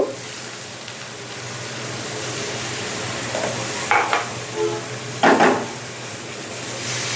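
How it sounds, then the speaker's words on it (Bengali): Pointed gourd stirred in a pan with a little water added for simmering, part of a fried gourd dish with fish roe: a steady soft sizzle throughout, broken by two louder scraping stir strokes near the end. "নাড়া দিয়ে ঢেকে রেখে দেব পটলটা সেদ্ধ হওয়ার জন্য।"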